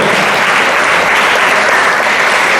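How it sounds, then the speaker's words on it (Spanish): A church congregation at a Sunday service applauds for the Lord, loud, dense and continuous clapping filling the room evenly with no pauses. "Aplausos por el Señor."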